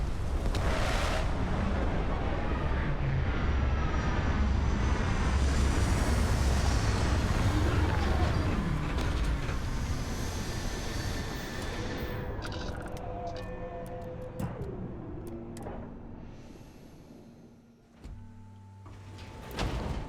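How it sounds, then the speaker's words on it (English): Spaceship retro thrusters roaring during a landing in the video game Starfield, a loud sustained blast that slowly fades, then gives way to mechanical clunks, hisses and whirs as the craft settles. "Landing struts primed. Retros firing."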